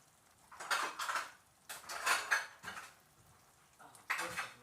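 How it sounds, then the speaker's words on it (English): Cutlery clatters and rattles in a kitchen while someone rummages for a spoon after cooking spaghetti: four close bursts of jangling metal utensils with short quiet gaps, and no talking. "Let me get a spoon."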